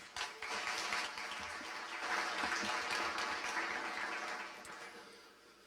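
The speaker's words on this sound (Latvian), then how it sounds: "Vēlreiz ar aplausiem." Audience applause at the Gada brīvprātīgais 2025 volunteer awards event, a steady wash of clapping heard faint and from a distance, swelling briefly before tapering off, with no speech over it.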